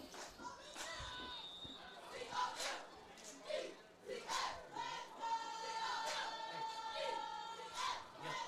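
Cheerleaders at a night high school football game cheer on the Vilonia Comets in rhythmic shouted chants that rise and fall, with crowd noise around them, distant and fairly faint.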